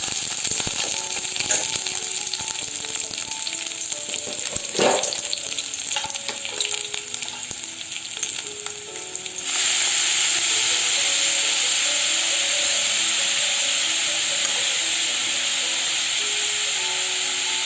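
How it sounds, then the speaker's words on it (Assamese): Steady, loud sizzling of cabbage and peas frying in a hot pan, continuous throughout, with the hiss growing brighter and more intense partway through and faint clinks of stirring. "এখন চিম্পল বন্ধাকবি ভাজি বনাইছোঁ"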